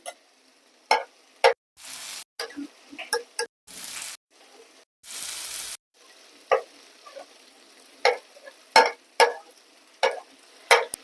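Crab pieces and spice masala are sautéed in a pan. Sharp spatula knocks and scrapes come in uneven bursts, with brief loud surges of sizzling between quieter gaps, close by and without talk.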